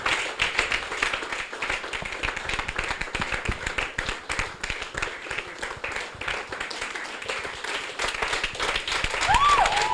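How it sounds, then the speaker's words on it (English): Event guests clap steadily for the sponsor in a moderately quiet, uneven round, with some talk in the room mixed under the clapping. "Please, a round of applause for him."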